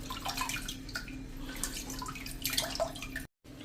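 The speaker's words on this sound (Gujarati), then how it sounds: "આ રીતે જ ઊંડું વાસણ લઈને અને 2 થી 3 પાણી આ રીતે ધોઈ નાખવાની કોબીને" Water splashing and dripping as cabbage is rinsed in a deep vessel, soft close sloshes and trickles in an otherwise quiet kitchen.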